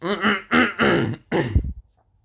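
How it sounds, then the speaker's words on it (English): A person clearing their throat: a few raspy, voiced rumbles in quick succession followed by a final harsher scrape, close and clear, with nothing else around it. "I couldn't really talk because I was just, well, yeah, I needed to, well, clear my throat"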